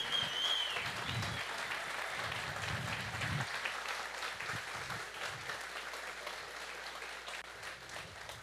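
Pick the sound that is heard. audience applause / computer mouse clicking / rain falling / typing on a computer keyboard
audience applause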